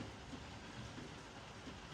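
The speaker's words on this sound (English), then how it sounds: "I was concentrating on the weather, the rain hitting the roof" Steady, dense patter of rain hitting a roof, a continuous even hiss with no breaks.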